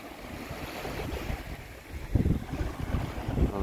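Sea waves washing onto the beach between Sopot and Gdynia: a steady roar of surf with wind buffeting the microphone, and a louder wave rolling in midway.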